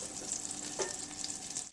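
Butter and honey sizzle steadily in a hot pan over medium-high heat, a constant crackling fry with a brief stir or clink partway through and a sharper knock at the end.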